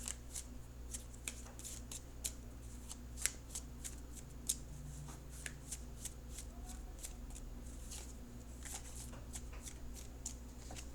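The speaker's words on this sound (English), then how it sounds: "shuffle for an outcome card." Tarot cards riffle and flick in a quick, irregular series of crisp snaps while shuffled, close and fairly quiet over a low steady hum.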